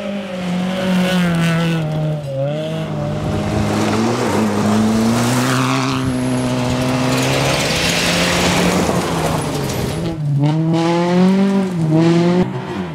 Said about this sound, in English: Kolakowski and Gary Sutherland pitted their matching Ford Focuses against the class-leading VW Golf of Kurt Field